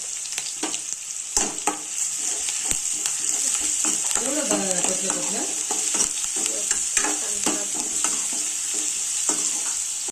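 A masala paste fried with onion until reddish brown, for varan phal, crackles in a steady, close, loud sizzle. A spoon scrapes and clicks through it in irregular strokes.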